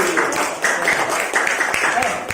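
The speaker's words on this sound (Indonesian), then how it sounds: "Silakan sekali lagi tepuk tangan buat kelompok Nadim" Classmates clap for a student group in a classroom, a dense continuous patter of many hands, fairly loud and close, with voices mixed into the noise.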